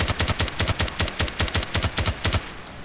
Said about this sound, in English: So now we're going to do hip firing, tap firing.